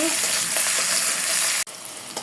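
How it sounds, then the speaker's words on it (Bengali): Steady, crackling sizzle of onions frying in a pan with bay leaf, cloves, cinnamon and cardamom, loud and close, with a brief break near the end before the frying resumes. "আমার পেঁয়াজটা মোটামুটি ভাজা হয়ে গেছে"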